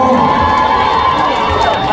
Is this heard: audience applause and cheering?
yes